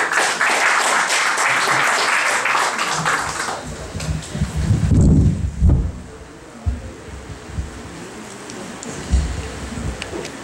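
An audience at an academic conference on scientific research in higher education breaks into loud applause that swells for several seconds, then thins into scattered claps and room noise.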